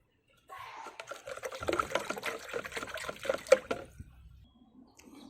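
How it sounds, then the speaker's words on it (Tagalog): Calcium nitrate fertilizer being mixed into water for seedlings: splashy pouring and swirling liquid, close and uneven, building then tapering off into quiet, with a faint voice murmuring in the background. "Ihalo natin sa tubig and then tunawin natin siya bago idilig."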